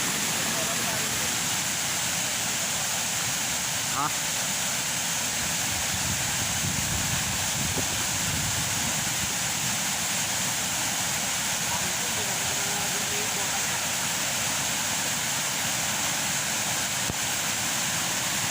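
A steady, loud roar of rushing water fills the scene without pause, like a strong river current churning nearby.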